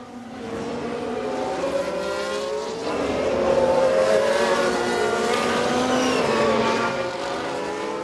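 A Ferrari race car in the F1 Manager 22 video game drives past with a high, steady engine whine that rises and falls in pitch, loud and continuous with no voices.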